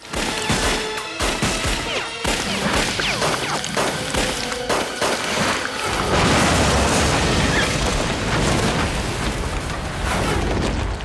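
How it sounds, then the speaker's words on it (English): Action-film shootout from The Silencers (1996), with sharp impacts and bangs building into loud booming explosions and rumbling debris, dense and continuous without speech. "we've got shootouts which end in explosions."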